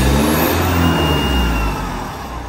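A Mitsubishi L300 Euro 4 van engine, not remapped but fitted with a side exhaust, revs loudly and steadily with a deep, throaty exhaust roar close by, easing off slightly toward the end.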